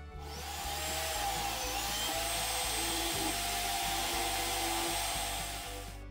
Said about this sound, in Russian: Зажимаем все это дело в дрель, подтягиваем.